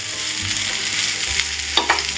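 Leftover cooked rice stirred in a hot pan: a continuous close sizzle with a couple of sharper spoon scrapes near the end, no voices.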